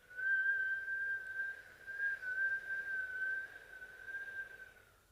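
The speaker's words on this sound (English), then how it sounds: "we're going to inhale through that whistle shaped mouth" A steady, sustained whistle-like tone from air drawn through pursed lips, held for several seconds at an even pitch before fading.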